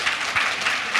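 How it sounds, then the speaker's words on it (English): A brief burst of audience applause at a panel talk on corporate and startup careers, a continuous patter of many hands clapping at moderate loudness. "So round of applause,"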